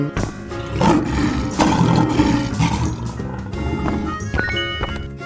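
A lion in a 3D animal sliding video game lets out a loud, rough roar that swells and fades over game music, with clattering effects toward the end.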